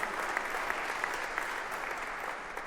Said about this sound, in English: Let's give a big round of applause to the Blues for what they've done.